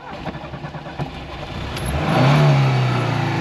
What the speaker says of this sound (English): You rev the engine a few times,